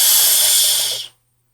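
A loud, breathy hiss imitated by voices, a sustained "shh" rushing sound like rocket exhaust that holds steady for about a second, then cuts off.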